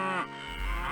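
A cow in The Elder Scrolls II: Daggerfall gives one short, close moo, a loud low bellow lasting under a second with no other sound around it.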